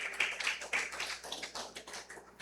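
A church congregation claps during a sermon, a faint, distant patter of irregular hand claps that continues for a couple of seconds.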